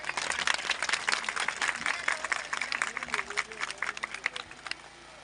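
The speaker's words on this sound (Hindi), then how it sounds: "नवाज शरीफ साहब के लिए जोरदार ताली हो जाए" A crowd claps and cheers at an outdoor election campaign rally in Kulay ka Kot, Pakistan, with sustained rapid applause mixed with babble, fading somewhat toward the end.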